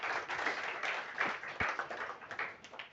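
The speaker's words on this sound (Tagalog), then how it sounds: "Yung palakpak na po yan, kung para kay Lord, lakasan po natin." A church congregation breaks into applause, a dense patter of many hands clapping at moderate distance that swells and fades in waves, with a few sharper claps standing out.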